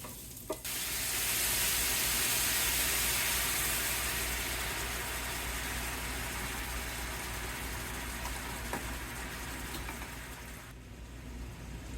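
Onions caramelizing in a pan give a steady, loud, close sizzle that begins abruptly and holds for several seconds before cutting off, with faint clicks of stirring.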